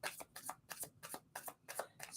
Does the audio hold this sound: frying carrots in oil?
no